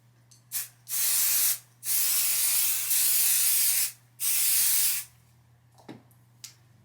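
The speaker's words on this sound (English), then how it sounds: "we'll use our Odif 505 spray adhesive and start spraying to adhere the batting onto the backing" Four long, steady hissing bursts from an aerosol can of Odif 505 spray adhesive, each lasting about a second or more, separated by short pauses.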